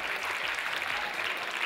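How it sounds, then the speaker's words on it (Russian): Brief burst of audience applause during a KVN comedy quiz show, a full, steady clapping from a large crowd that carries through the whole short moment without letting up. "Ирина Дончева, ваши аплодисменты!"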